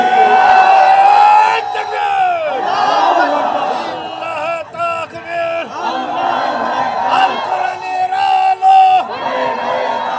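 A large crowd roars a takbir chant in unison at an outdoor Islamic religious rally, loud, sustained surging shouts with rising cries, a siren-like tone and overlapping voices.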